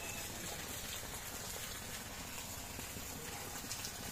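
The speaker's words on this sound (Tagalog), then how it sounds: "yung nakikita nyong water pump sa ilalim mamaya, yan yung binubuga ng tubig niya" A steady rushing gush of water from a 3-horsepower Maxi Pro pump discharging water from a 36-meter-deep dig, loud and unbroken, a heavy continuous stream.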